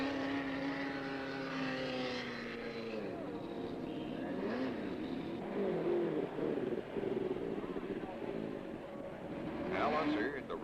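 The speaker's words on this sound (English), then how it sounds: "George Fulmer, who has steadily improved his position, glides in for his load of fuel" A 1970 USAC Indycar glides out of the pits after refuelling at the Ontario 500, its engine droning steadily and rising in pitch over several seconds amid continuous crowd and track noise.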